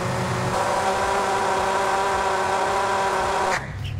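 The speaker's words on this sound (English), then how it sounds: "the engine is a bit more aggressive when you raise the load knob" A synthesized car engine from the Krotos Igniter plugin runs with the load raised, giving a steady, loud, aggressive drone that holds for about three and a half seconds and then cuts off abruptly.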